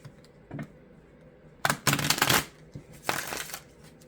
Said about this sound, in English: I don't know why, but Spirit wanted me to shuffle a lot.